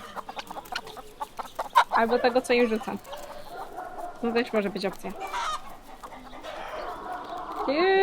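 Hens clucking and squawking close by in a rural yard, with intermittent calls over a woman's speech and faint background noise.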